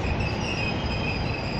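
Steady rumbling rush of a Nagpur Metro train on a trial run rolling past close by, with a faint high whine from the wheels running throughout.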